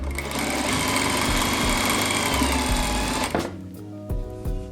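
A sewing machine stitches fabric over piping cord in a fast, even run of close, loud whirring that stops abruptly partway through, leaving a few soft knocks and handling sounds.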